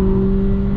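A VW Polo GTI taking Flugplatz on the Nürburgring at about 160: a brief, loud, steady engine drone with a sustained tonal hum and no talking.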